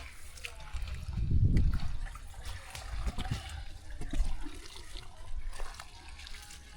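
Water splashing and trickling onto soil as it is poured around newly planted coconut saplings in a field, a few gushing surges over a low outdoor background.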